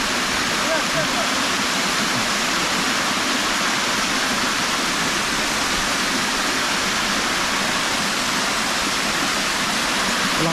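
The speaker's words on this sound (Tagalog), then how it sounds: "Lakas po ng agos sa tubig oh." Strong water current rushing out of a flooded dam outlet, a loud, continuous roaring wash close by that fills the whole clip without a break, with no clear talk above it.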